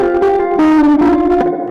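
Guitar notes with a chamber reverb effect ring out in a short phrase, their tones lingering and blending with a spacious reverberant tail.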